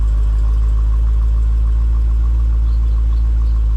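A car engine idles steadily with a deep rumble and a fast, even ticking from the injectors or lifters running through it, close and loud.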